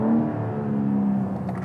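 A BMW M4 Coupé on a racetrack holds a steady, loud engine drone at high revs near the red line, a sustained rumbling whir with no break and no voices.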